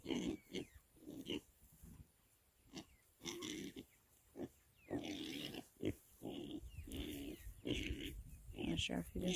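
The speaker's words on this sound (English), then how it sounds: "they're still piglets, but tiny little piglets" Piglets grunt and snort in short bursts with breathy wheezes, close by, with brief pauses between the clusters of sound.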